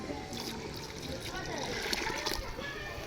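Water poured into a cooking pot of head-and-trotters mutton curry, a steady splashing trickle that runs throughout against a busy background.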